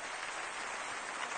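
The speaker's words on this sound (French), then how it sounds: "Et applaudissez monsieur Tom Novembre." Applause from a cabaret audience in a French television variety show, a steady, faint wash of many hands clapping without pause.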